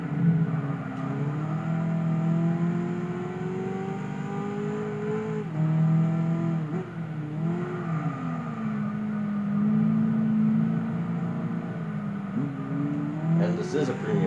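Engine of a 1965 Shelby GT350 in Gran Turismo 6, a steady close drone with pitch sweeping up and down as the light car slides through turns, the revs holding under a voice talking throughout.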